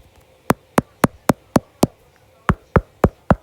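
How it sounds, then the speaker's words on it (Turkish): Knocking on a door: a run of sharp, evenly spaced raps, six quick knocks, a short pause, then five more, loud and close, with no talking. "Kapıyı çalacağız."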